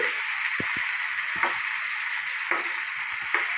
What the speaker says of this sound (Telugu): అరటికాయ వేపుడు చేస్తున్నాను